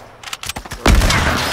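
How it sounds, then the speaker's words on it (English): Assault rifle fire in Fortnite Battle Royale, a few scattered shots followed by a loud, sustained burst that fills the second half, with no talking. "I'm using my AR."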